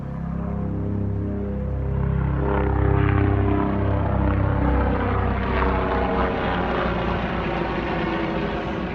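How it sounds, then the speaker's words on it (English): A helicopter passes overhead, a loud, steady rotor and engine drone with a low pulsing throb that swells slightly near the middle and holds throughout, with no talk. "a helicopter going about"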